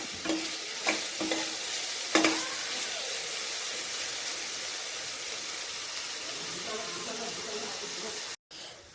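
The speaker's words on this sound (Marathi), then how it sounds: "आता आपण ह्याच्यामध्ये टोमॅटो ॲड करूया आणि टोमॅटो पण व्यवस्थित फ्राय करून घेऊया" Tomato fries with ginger garlic paste and onion for a dry prawn masala, giving a constant hiss and sizzle with a few clanks of stirring near the start before the frying settles into a steady crackle.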